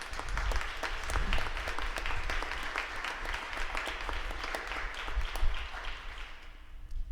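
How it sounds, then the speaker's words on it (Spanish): Audience applause for a speaker introduced at a talk on prehispanic music, steady dense clapping from a seated crowd sustained for about seven seconds before tapering at the end. "Un aplauso."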